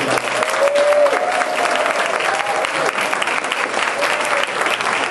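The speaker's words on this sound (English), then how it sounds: "I really want to give him a round of applause for all that he's done" An audience at a school celebration of learning event applauds steadily for the whole stretch, a dense, even wash of clapping with a few brief voices mixed in.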